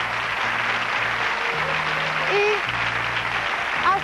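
A television game show studio audience applauds a contest winner with sustained, even clapping over low musical tones.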